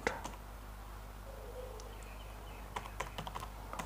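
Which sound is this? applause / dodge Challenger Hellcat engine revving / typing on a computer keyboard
typing on a computer keyboard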